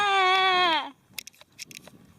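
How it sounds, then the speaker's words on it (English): A single loud, wavering bleat from a young goat, followed by quieter scattered rustling and small thumps. "Ah, baby goats."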